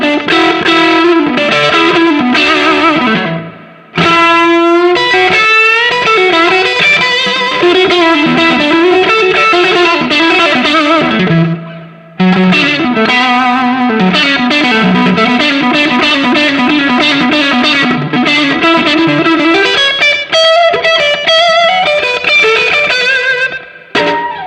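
Electric guitar run through a TC Electronic Line Driver pedal, playing loud, driven melodic lines and chords with sustained notes, two brief pauses, no speech.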